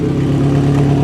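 Brief, close, loud burst of a Mazda Miata engine running while warming up, a steady humming drone with a strong low tone.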